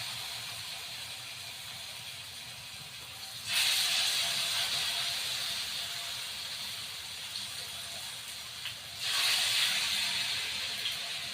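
Battered pumpkin flower fritters go into hot oil in a wok, each drop setting off a sudden loud hissing sizzle that slowly fades. The two bursts are spaced several seconds apart over a low background hiss.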